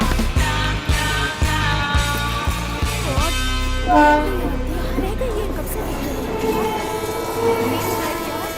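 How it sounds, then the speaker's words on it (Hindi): A train in an Indian movie scene rumbles and clatters with rhythmic wheel thumps early on, then gives way to tonal whistling and music-like sounds under a layer of voices. "ये ट्रेन हमेशा करेक्ट टाइम पे ही छूटती है"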